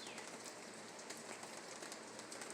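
Steady rain falls in a continuous broadband hiss, even and unbroken throughout, with faint scattered drops but no voices.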